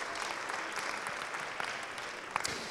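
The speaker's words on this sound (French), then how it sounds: "Mais je vous demande de l'applaudir, il est incroyable." An afternoon debate audience at the Elle Active 2014 event applauds Antoine de Gabrielli, a brief burst of moderately distant, even clapping with a few sharper claps near the end.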